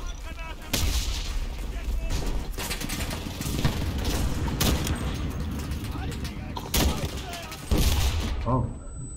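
Grenade launcher blasts and gunfire in the World War II shooter Enlisted, set in a Stalingrad street battle: loud booms and dense volleys keep going throughout, while someone talks over the din.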